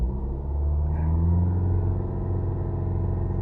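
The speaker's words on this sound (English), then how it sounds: "So I'm going to rev it" A 2-litre Land Rover diesel engine runs with a steady, deep, close rumble that holds at a constant level throughout, with no voices.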